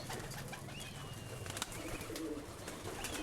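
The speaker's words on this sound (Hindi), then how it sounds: "जो स्क्रीन पे आप कबूतर मुलाहिज़ा कर रहे हैं, ये उस्ताद की शाहीन ब्रीड, अबाबील ब्रीड और तार वाली ब्रीड में से हैं।" Shaheen, Ababeel and tar-wali breed flying pigeons coo softly and faintly against a steady outdoor background hum, with a few low, scattered calls.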